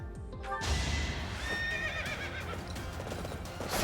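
A horse in the video game Fire Emblem Three Houses gives a loud, wavering neigh over game music and effects, with clip-clop hoofbeats.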